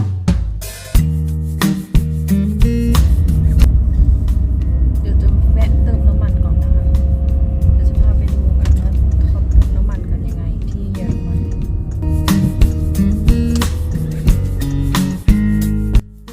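A car drives slowly through a village in Aachen, Germany, with a steady low engine and road rumble from inside the cabin, while someone speaks over it at the start and again near the end.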